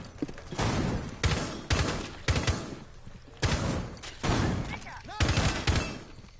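Bursts of gunfire ring out in a Rainbow Six Siege match, arriving as six loud clusters of rapid shots with short pauses between them. Each burst is punchy and close, with faint noise in the gaps.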